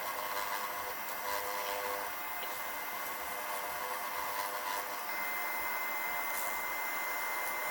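Wood lathe spinning while a bowl is turned, a steady broadband whirring hum running continuously and fairly faint throughout, with no voices.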